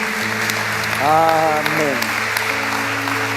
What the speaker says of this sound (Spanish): vamos a darle un fuerte aplauso a nuestro Dios